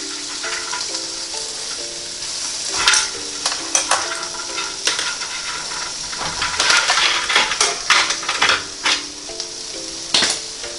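Chicken breast sizzles and crackles on a NuWave Primo grill oven as it is flipped, with a steady frying hiss broken by several louder scrapes and clatters of tongs near the end, and no talking.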